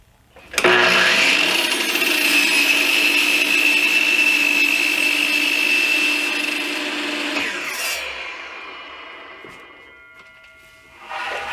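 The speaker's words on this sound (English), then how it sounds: "I'll take it over to the miter station and get these cut" A miter saw cuts through 2x6 fir boards, giving one loud, sustained whining cut of about seven seconds that winds down, followed by the blade spinning down and a brief restart near the end.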